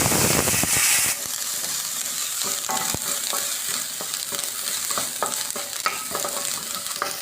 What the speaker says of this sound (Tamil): இப்போ சுண்டைக்காய் போட்டு வதக்கிக்கலாம்.